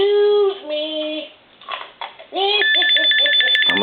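A Bugs Bunny Tele Mania animated talking cordless toy phone gives off synthesized voice-like tones, then breaks into a buzzy electronic ringing trill. The sound is loud and close.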